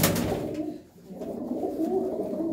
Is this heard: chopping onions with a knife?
no